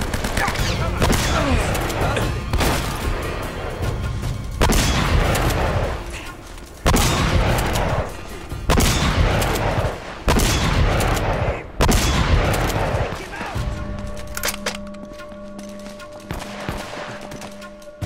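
Intense firefight in Uncharted: Drake's Fortune, with loud, rapid automatic gunfire in repeated heavy bursts separated by brief pauses, thinning toward the end as a tonal hum comes through.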